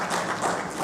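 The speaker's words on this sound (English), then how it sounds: "Please show them some love by giving them a big round of applause" An audience at a tourism expo seminar applauds the speakers invited to the podium, giving a brief burst of continuous, fairly loud clapping.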